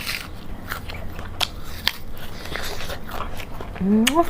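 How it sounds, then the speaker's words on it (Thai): Crisp bites into crunchy chocolate-coated jujube fruit, several sharp crunches spaced across the clip, close to the mic, with a brief voiced sound near the end. "กรอบคัก พามากินผลไม้กรอบๆนะพี่น้องเนี่ย"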